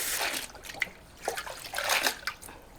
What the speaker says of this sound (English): I'm gonna rinse it with cold water, and now I'm gonna pour it back in here.